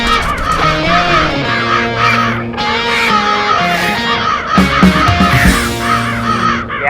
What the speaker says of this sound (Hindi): इतने सारे चील, this is not a good sign